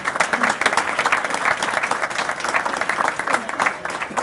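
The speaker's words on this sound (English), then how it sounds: "I think these guys deserve a pretty big round of applause." At a regular police jury meeting, an audience gives sustained, dense applause for a championship team, steady and fairly loud throughout with no break.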